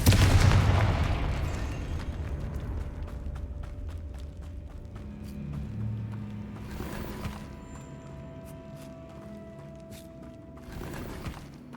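Fiery Confringo spell blasts in the video game Hogwarts Legacy: a heavy explosive boom opens, followed by rumbling and two more sharp bursts, with game ambience and tonal effects between them.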